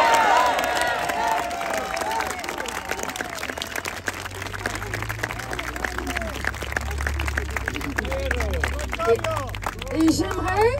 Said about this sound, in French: J'aimerais qu'on l'applaudisse bien fort.